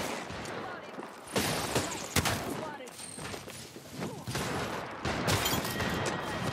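Gunfire rattles in a video game, loud bursts and volleys crackling over a busy, continuous mix of in-game effects, with occasional thuds.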